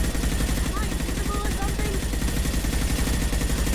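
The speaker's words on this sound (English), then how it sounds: "there's a lot of gunfire going on in this room" Dense, continuous gunfire in the video game Mass Effect 2 roars through a room firefight, a loud rapid rattle of automatic weapons with no breaks and faint high effects threading through it.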